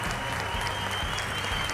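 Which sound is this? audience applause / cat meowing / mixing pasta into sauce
audience applause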